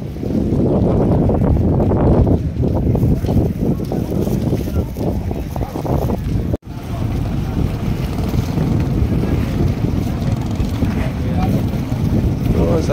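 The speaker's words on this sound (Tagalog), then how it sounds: "Sasakay po kami ng bangka." A small boat's engine drones over rushing sea water and gusty wind buffeting the microphone, loud and continuous, with a brief dropout midway, off Negros Oriental, Philippines.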